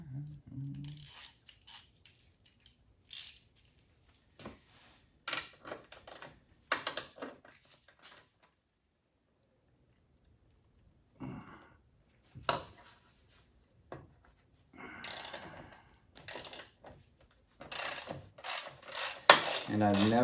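Socket wrench, 12 mm and 13 mm sockets, working on the exhaust of a 2023 KTM 390 Adventure motorcycle, giving scattered metallic clinks, ratchet clicks and rattles between quiet gaps, close by.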